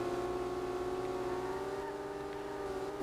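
A 2JZ-swapped 240SX drifting in the SLRR racing game holds a steady droning engine tone at high revs, constant and fairly close for a few seconds.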